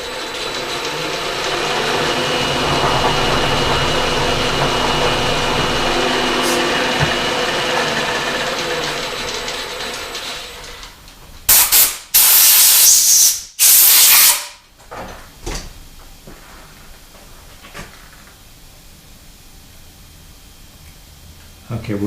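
Drill bit being drilled out of a metal base hinge for a bending brake, a loud steady grinding roar for about ten seconds, then several short bursts, fading to quiet shop ambience.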